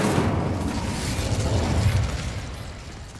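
An Incendio fire spell is cast in Hogwarts Legacy, giving a steady, loud roaring whoosh of flame with a deep rumble that holds for about three seconds and fades slightly at the end.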